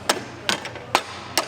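Hammer whacking a brake shoe on a 6.2L Mercedes C63, four sharp metallic strikes spaced about half a second apart, close and loud.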